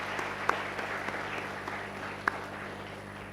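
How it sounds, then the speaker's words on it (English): Soft, distant applause at a university convocation ceremony, a low steady patter of an audience clapping with a couple of sharper claps standing out, heard faint across the hall. "Can we have a round of applause for yourself, please?"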